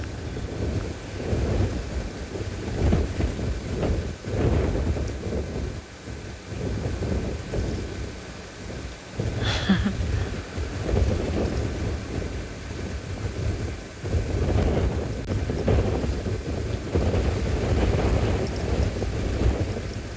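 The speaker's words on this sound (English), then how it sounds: "they can't hear very well with this wind" Strong wind sweeps across an open safari area in South Africa, buffeting the microphone with continuous low rumbling gusts that rise and fall, plus a brief rattling knock midway; no speech.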